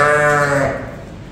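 Dumba sheep and goats bleat at a breeding farm, a loud, drawn-out call up close that fades into quieter background noise.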